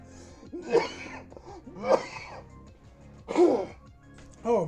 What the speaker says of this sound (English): coughing up all this lung butter after like a short run like that